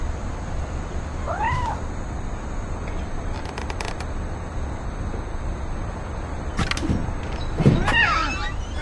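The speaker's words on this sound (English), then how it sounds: "Oh my gosh, there's a cat." A cat in the video game What Remains of Edith Finch meows several times, short rising and falling calls spaced apart over a steady low background hum, the last one nearest and loudest.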